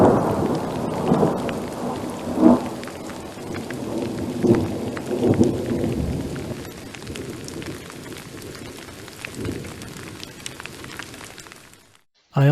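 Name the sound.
thunderstorm with heavy rain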